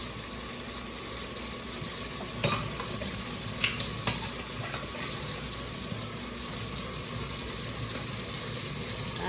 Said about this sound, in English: I'm gonna have to make up some dishwater because I got other dishes in this sink that I have to wash.